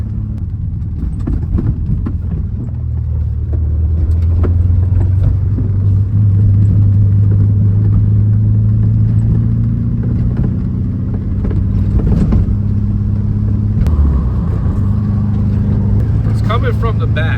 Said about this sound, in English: the most annoying thing about driving the Beetle is this clanking in the back.